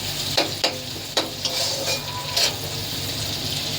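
Onion and green chili fry in a pan, a steady close sizzle broken by a few sharp clinks and scrapes of stirring.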